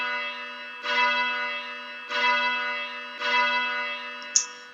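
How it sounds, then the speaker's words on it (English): A simulated church bell strikes three times at an even pace in a bell-ringing simulator. Each stroke is loud and close, and its rich metallic hum carries over into the next. A small click comes near the end. "So if I press R, the bell will just ring."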